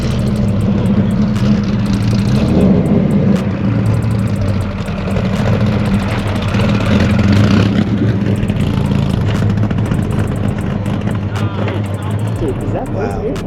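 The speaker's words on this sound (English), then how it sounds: "Listen to that car." A cammed car engine rumbles loud and close as it revs and pulls out of an outdoor car meet, with a lumpy, uneven idle and steady throttle under background crowd noise.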